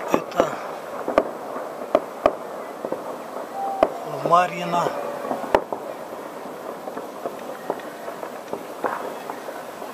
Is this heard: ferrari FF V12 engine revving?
no